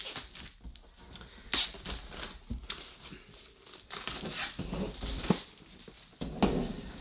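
Board game Atlantes being unboxed, with its packaging crinkled and torn open in irregular rustling bursts and sharp crumpling peaks, close and fairly soft, no talking.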